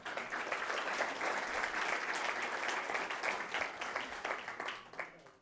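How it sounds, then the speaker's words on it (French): An audience at an ocean-themed evening event applauds in a resonant hall, with sustained clapping that fades away at the end. "Captain Thomas, on peut l'applaudir."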